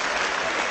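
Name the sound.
applause in European Parliament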